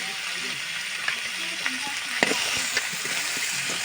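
A spoon works through rohu fish curry with spinach in a pan, giving soft scraping and stirring over a continuous low sizzle, with a few light knocks against the pan.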